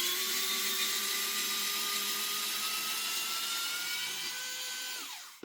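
An electric screwdriver whirs steadily while backing screws out of an airsoft MP9 lower, a close, continuous high whine that drops in pitch and winds down at the end.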